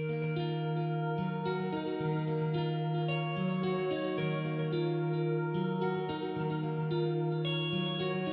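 Dark guitar samples layered with a Forlorn Island preset texture play as sustained, reverberant electric guitar notes in a slow repeating pattern over a wide ambient pad, with no voices.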